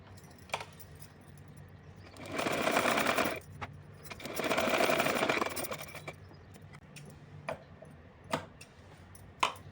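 A sewing machine stitches the bottom hem of a small nighty for a Kanha ji idol in two short bursts of rapid whirring, separated and followed by scattered clicks and taps of fabric handling, close and fairly quiet.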